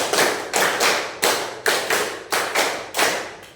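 A sixth-grade primary school class claps in unison in a rhythmic pattern, sharp group claps falling in short bursts with brief pauses between them, loud and close with no talking.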